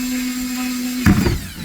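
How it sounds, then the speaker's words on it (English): Power drill bores holes through a plastic worm bin, a steady high whine running throughout, then a short burst of rougher grinding as the bit bites into the plastic near the end. "drill a hole in the bin"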